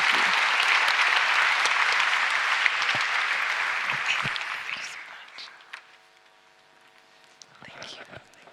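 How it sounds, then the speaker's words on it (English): A crowd at an opening ceremony gives a warm round of applause, a full, dense roar of clapping that fades after about five seconds into quieter room noise, with scattered claps and faint voices. "Please join me in giving them a warm round of applause"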